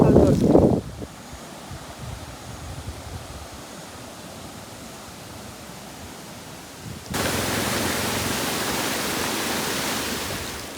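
Water flowing down an outdoor stream during a sudden rain shower rushes as a steady broadband hiss that grows louder and stays constant after a brief spoken moment at the start.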